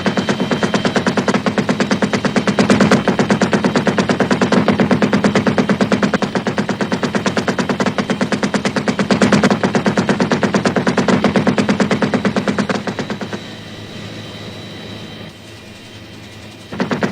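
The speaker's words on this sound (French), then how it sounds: "le minigun, mitrailleuse lourde à 6 canons, capable de tirer 4000 balles la minute" A six-barrel minigun heavy machine gun fires at about 4000 rounds per minute in wartime Vietnam. It sounds as a loud, unbroken, buzzing roar of rapid shots for roughly thirteen seconds before easing to a quieter rattle.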